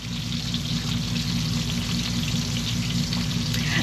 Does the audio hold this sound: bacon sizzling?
yes